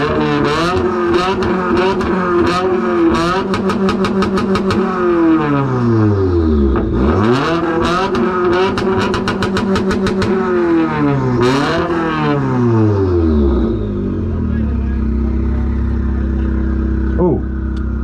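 Someone's 2020 Subaru WRX revs hard and repeatedly at an outdoor exhaust competition, its boxer exhaust rising and falling in loud close bursts with crackling rapid pulses, ending in a lower idle while voices talk faintly in the background.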